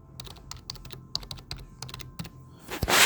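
Rapid keystrokes clatter on a school computer keyboard as a password is typed, an irregular run of close, crisp clicks ending in a louder burst of key presses.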